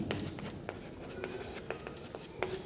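Quick strokes of writing on a board during a class 10 maths lesson, a run of scratchy taps and short scrapes in an uneven rhythm, close and clear with no voice over them.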